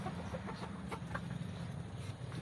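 Soft clucking from several hens and roosters mixed into a steady background hum, fairly faint and continuous with no talking.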